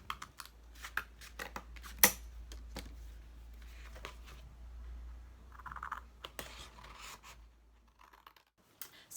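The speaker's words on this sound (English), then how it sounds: "now we can cut our stars out from the cardboard to make our templates" Scissors snipping through cardboard to cut out star-shaped templates, a series of sharp clicks and crisp cuts in an uneven rhythm, close and fairly quiet over a low steady hum.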